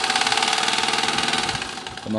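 A treadle-powered sewing machine runs steadily with a fast, even mechanical clatter, loud and close throughout.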